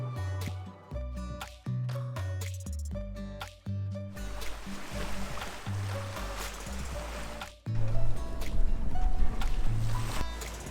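A boat setting off through rough sea at seven in the morning, with water rushing and slapping against the hull in surging bursts under a steady engine hum and music, and no speech.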